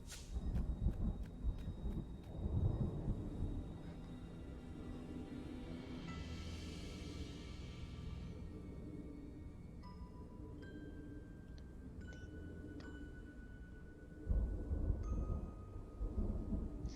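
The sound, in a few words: distant thunderstorm in Stories: The Path of Destinies video game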